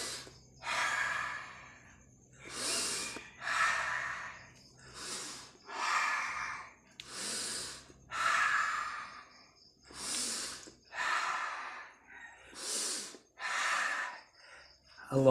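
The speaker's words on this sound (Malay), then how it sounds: "tarik nafas dululah" An elderly man breathes deeply during an exercise routine, about ten slow, loud in-and-out breaths in an even rhythm, each a rushing inhale or exhale separated by short pauses, close and alone without speech.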